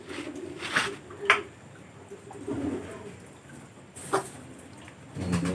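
A sick pigeon with snoring, rattling breath gives a few short, close coos and clicks, separated by quieter stretches of breathy background noise.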